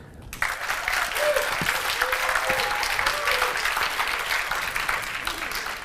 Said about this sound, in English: give them a round of applause as I call them up and congratulate these people